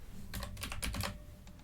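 Quick, light keystrokes on a computer keyboard while a new menu name is entered, a short close-up burst of clicks that thins out toward the end.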